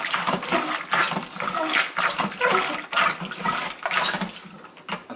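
Sanitizing solution squirts from a bottle washer up into a beer bottle, a loud, close, gushing water sound that swells and eases in repeated pulses over a few seconds, with no talking.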